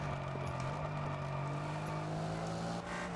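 A car engine in the Test Drive Unlimited Solar Crown racing game drones steadily and loudly, holding an even tone that edges up slightly as the car accelerates, with no one talking.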